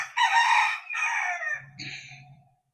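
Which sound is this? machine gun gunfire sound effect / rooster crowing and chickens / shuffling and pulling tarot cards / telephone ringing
rooster crowing and chickens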